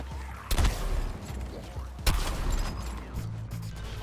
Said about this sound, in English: Fire initiated. Airstrike.